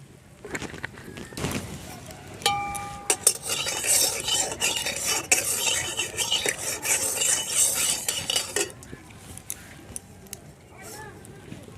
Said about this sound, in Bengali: চাউটাকে একটু ঝাঁকিয়ে তলারগুলো ওপরে তুলে দেব